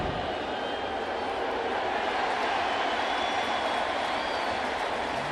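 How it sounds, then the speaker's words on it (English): A big baseball crowd at Yankee Stadium cheers after a home run, a dense, steady roar that fills the whole stretch without letting up. "That's what you hear the cheering about"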